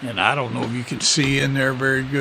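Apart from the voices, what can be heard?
No everyday noise stands out behind the speech.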